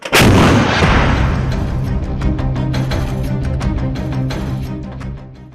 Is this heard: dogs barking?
no